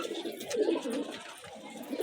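Pair of tagged fancy pigeons, male and female, cooing softly: a short, low, rolling coo close by with a faint background hum.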